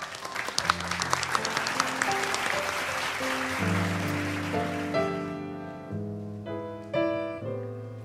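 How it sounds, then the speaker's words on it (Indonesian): Audience applause welcoming a school principal, Ibu Dwi, clapping at first, then giving way to sustained musical tones that carry on with clapping mixed underneath. "Boleh kita berikan tepuk tangan untuk Ibu Dwi."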